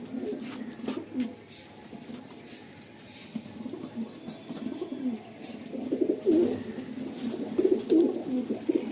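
High-flying Andhra pigeons released from a simple cage coo and chirp nearby, with soft wing flutters and rustling building toward the end.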